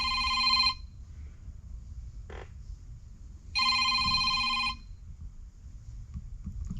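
A telephone rings in two long electronic bursts separated by a pause, loud and close, in a workshop during a GM throttle body injection rebuild.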